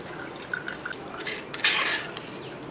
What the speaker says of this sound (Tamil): இந்த நைஸான ஜல்லடை வச்சு நம்ம வடிச்சுக்கலாம்